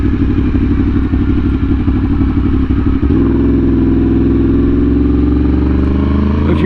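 A Yamaha R1M sportbike engine runs close and very loud, a steady heavy rumble that shifts to a smoother, higher drone partway through.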